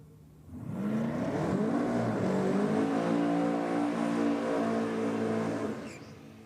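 A Datsun Skyline drag car makes a solo pass at a NSW championship drag strip, its engine roaring up from quiet into a loud, sustained high-revving blast that holds for several seconds before fading.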